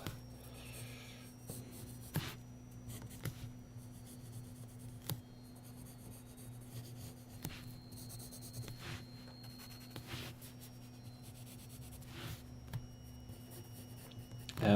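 A pencil sketches an Easter bunny on paper, with faint scratchy strokes and light taps scattered among pauses over a steady low hum.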